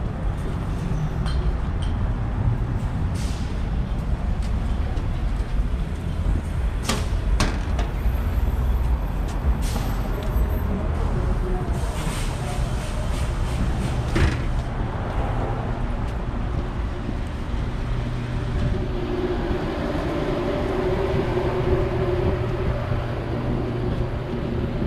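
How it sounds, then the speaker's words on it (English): A G train rumbles loudly and steadily through Greenpoint Avenue subway station in Brooklyn, New York City, with metallic clinks, squeals and hissing brakes echoing throughout. "This is the Greenpoint Avenue subway station."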